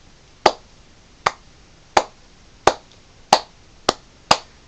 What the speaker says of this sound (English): there's my fucking clap for you